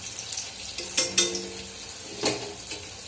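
Food stirs and fries in a wok, with a soft sizzle underneath and a few sharp clinks of a utensil against the pan.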